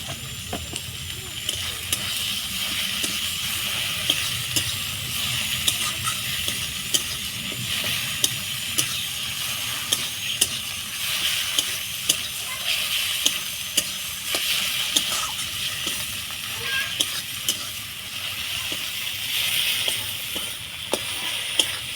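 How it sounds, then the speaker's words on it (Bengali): Mutton head pieces fry in a pan for a curry with tomato and salt. A constant hot sizzle sits close by, broken by repeated sharp clicks and scrapes as a utensil stirs the pan, and no one speaks. "ভালো মতো ভাজা ভাজা হয়ে গেছে"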